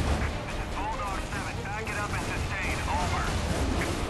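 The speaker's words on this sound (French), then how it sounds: "tout n'est qu'explosion" Explosions in the video game Prototype, a dense barrage of blasts and gunfire-like rumble running continuously and loudly throughout, with game effects layered on top.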